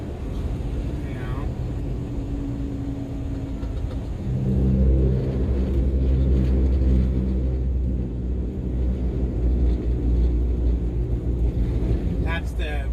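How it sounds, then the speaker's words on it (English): Truck tires crossing highway rumble strips in a road construction zone: a loud, sustained low droning buzz that swells partway through, over constant cab rumble and wind noise, with someone talking throughout. "That's the rumble strips you guys are hearing because we got to run the braille because of all the road construction."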